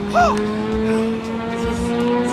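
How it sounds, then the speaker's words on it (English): A race car powered by a Suzuki GSX-R 1000 motorcycle engine holds a steady high-pitched whine, a short squeal near the start, with faint talk underneath. "It runs a Suzuki GSXR 1000, so it's a motorcycle engine."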